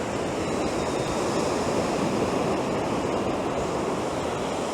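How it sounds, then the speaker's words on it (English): Sea waves breaking on Easington Beach on the Holderness Coast, a continuous broadband rush of surf with wind noise, steady and fairly loud, with no voices. "Maybe just waves again."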